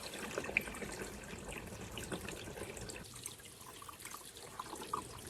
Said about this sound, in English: I'm gonna top off all my water bottles.